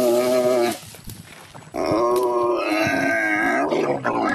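A camel in Egypt bellows and groans loudly up close, two long drawn-out rumbling calls separated by a brief quieter pause, with no speech.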